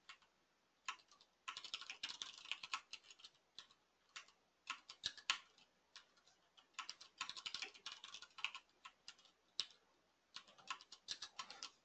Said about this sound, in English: I'm just typing the same thing over and over again.